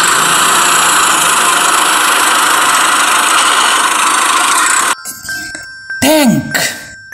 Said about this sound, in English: This is a tractor.